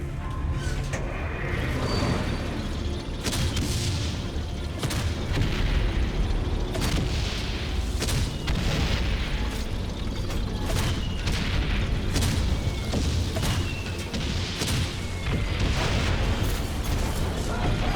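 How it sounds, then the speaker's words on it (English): In the Valiant Hearts video game, repeated deep booms from a homemade mortar cannon go off at irregular intervals over a rumbling wartime background, each blast a sharp loud thud followed by a brief decay. "Homemade mortar cannon."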